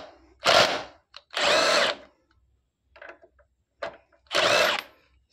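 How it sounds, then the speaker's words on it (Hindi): Bosch GDS 18V-400 cordless impact wrench loosening a bike axle nut, three loud close bursts of rattling hammering, each about half a second to a second long, separated by quiet gaps with faint clicks. "खुल गया, ये नट पूरा खुल गया,"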